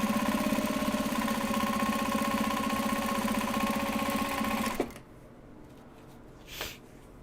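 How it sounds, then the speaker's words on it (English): A sewing machine runs steadily as it stitches a seam on a mini traveller sling bag in Japanese fabric, a close, even mechanical hum with fast rhythmic needle clatter that stops abruptly, leaving near silence. "And then stitch using this seam allowance."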